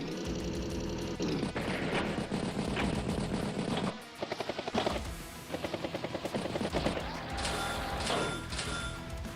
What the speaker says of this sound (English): Anti-air takes out the T-copter.